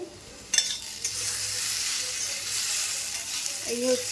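Sliced potatoes fry in a pan with a steady, hissing sizzle, close and continuous, broken by a sharp clink of a utensil early on and light stirring scrapes.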